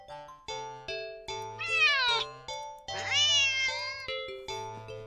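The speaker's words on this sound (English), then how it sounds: "the cat meows sharply at you and dashes off around the corner and into the hall" A house cat meows sharply several times in close succession, loud and near, with a few longer, drawn-out rising cries among the shorter calls and no talk.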